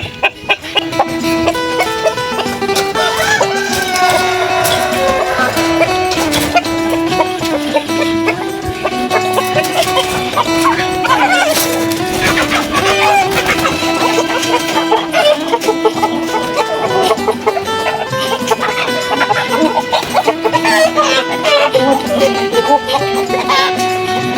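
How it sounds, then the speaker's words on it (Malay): Crossbred layer hens and two roosters cluck and cackle steadily in a coop, loud and close, with a voice talking over the birds throughout. "Ini ayam ni ada cross untuk layer yang keempat. Dia ada 2 ekor jantan."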